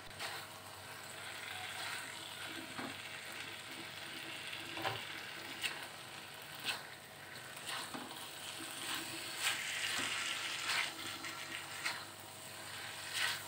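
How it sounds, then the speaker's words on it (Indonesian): Fried eggplant is stirred into balado spice paste in a pan with anchovies, a steady soft sizzle with repeated scraping clicks of the spatula, close and without voices. "tinggal dimasukin aja terong yang sudah digoreng tadi. Aduk sampai rata dengan bumbunya ya bun."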